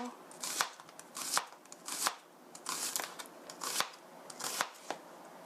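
A kitchen knife julienning a vegetable into thin strips for home-style curry rice, striking the cutting board in quick bursts of rapid, crisp chops, close-up, with short pauses between runs and no talk.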